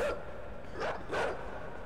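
Dogs barking in the side-scrolling game Inside, a few short barks spaced across the moment, moderately loud against quiet background.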